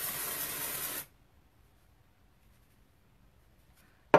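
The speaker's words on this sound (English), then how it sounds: "We're just gonna give it a good spray." Dry shampoo sprays onto hair in one short, steady hiss lasting about a second, then stops into near silence.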